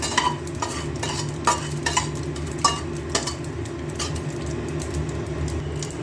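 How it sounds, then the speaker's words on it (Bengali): Tempering spices sizzle and crackle in hot oil for bitter gourd dal, with a steady frying hiss and scattered sharp pops and spatters throughout, no voices. "এবার এই ফোড়নগুলো একটু ভাজা ভাজা হবে।"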